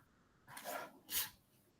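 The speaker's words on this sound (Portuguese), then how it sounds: "Vou espirrar." A single human sneeze, with a short breathy intake followed by a sharper explosive burst, fairly quiet and heard alone.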